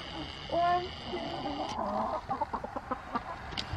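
Farmyard chickens cluck in short, uneven bursts close by, with one louder call early on, heard at a coop while eggs are gathered from the nests.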